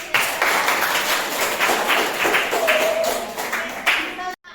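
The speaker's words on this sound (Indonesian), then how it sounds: "Oke, tepuk tangan" Hands clap repeatedly in a classroom at the close of a lesson, a dense, steady run of claps from a group filling the room for about four seconds before stopping abruptly.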